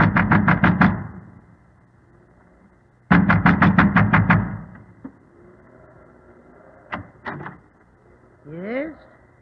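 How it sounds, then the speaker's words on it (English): Heavy fists pound on the wooden door of a windmill on a stormy coast, radio drama style: two loud bursts of rapid knocking, then a few scattered thuds and creaks in a quiet room. "A man wrapped in an oilskin and wearing gigantic boots was pounding at the door of the"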